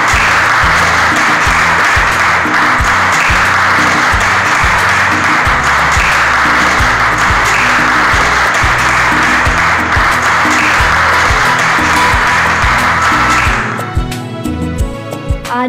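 Sustained applause from an audience welcoming the chief guest, a district collector, at a public celebration event, steady and loud for about fourteen seconds before thinning out near the end.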